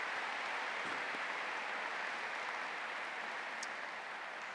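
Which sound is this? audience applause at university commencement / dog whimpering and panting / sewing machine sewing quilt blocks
audience applause at university commencement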